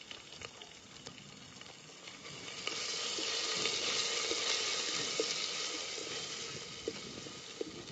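Spice paste of ground chilli, ginger, garlic and cumin with mustard seeds and curry leaves frying in a pan, a steady close sizzle that swells louder midway, with occasional stirring ticks and no talk.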